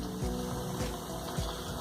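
Cheese-stuffed onion rings fry in hot oil, giving off a steady, dense sizzle and bubbling hiss at moderate volume with no talking.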